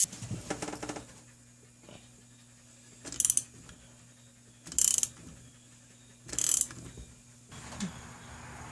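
A socket ratchet works on a bolt in a 2007 KTM 65 SX engine, with three or four short, bright bursts of clicking spaced a second or so apart over a quiet background, heard close.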